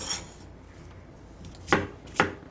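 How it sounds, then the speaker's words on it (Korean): A knife dicing cucumber into cubes on a cutting board: a few soft scraping strokes followed by two distinct, close chopping knocks, quiet and alone. "요놈 깍둑깍둑 썰어줍니다."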